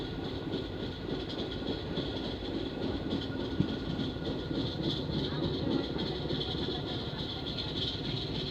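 The Koyna Express passenger train 11029, running from Mumbai to Kolhapur, rolls along with a constant loud rumble and faint rhythmic clatter of wheels, heard from close by throughout.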